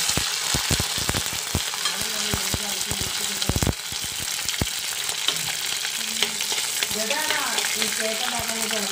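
Green chillies and curry leaves, added to a ground paste of tomato and onion, sauté in hot oil for a fish chilli curry, sizzling loudly under repeated spoon stirs and scrapes.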